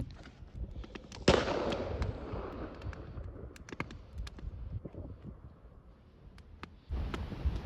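A Fiskars X17 axe strikes firewood with a sharp, loud crack, and the wood splits with a crunching tail. Scattered small knocks and clicks follow, then a second burst of noise near the end.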